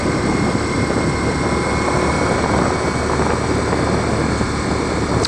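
A 2023 Ducati Diavel V4 motorcycle engine pulls steadily under light throttle through town, a continuous loud broadband roar with wind rush and no clear gear-change breaks.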